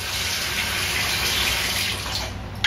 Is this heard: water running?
yes